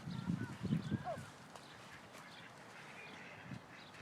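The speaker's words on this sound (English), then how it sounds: "Carol, there's lots of daddy ducks." Ducks, including drakes with ducklings nearby, quack in a short cluster beside water, fairly faint and close, before fading into quiet outdoor ambience.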